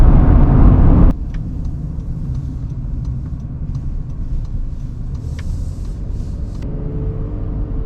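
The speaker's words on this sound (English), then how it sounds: "Man, I love this old V6 exhaust sound." A 2025 Honda Pilot TrailSport's V6 exhaust gives a steady, close low rumble as it accelerates, heard from inside the cabin, with a louder opening burst before it settles into an even drone.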